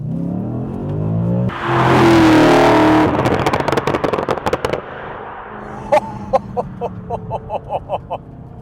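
A 4.2-litre V8 Audi RS4 B7 accelerates hard on a closed road, a loud rising engine roar giving way to rapid crackling pops and bangs from the exhaust as it lifts off.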